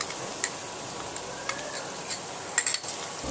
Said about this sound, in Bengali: দিয়ে ভালো করে ভাজা ভাজা করে নিতে হবে এইভাবে কষিয়ে নিতে হবে